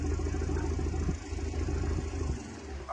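Fishing trawler engine running while the boat moves through a narrow channel toward the Kakdwip dock. A steady mid-pitched diesel throb with a knocking pulse continues throughout, close and fairly loud.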